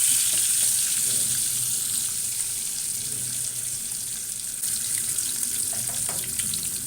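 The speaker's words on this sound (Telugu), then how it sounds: "ఈ గుడ్లు యొక్క పై తోలు ఎర్రగా వేగాలి" Boiled eggs dusted with turmeric frying in a pan, giving a continuous bright crackling sizzle with a few faint scrapes, steady and close, no speech.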